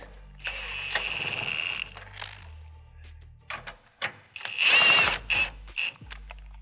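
Ratchet spinning bolts down on a 1979-2004 Mustang SVE sway bar install, several bursts of rapid clicking with pauses between, close and fairly loud.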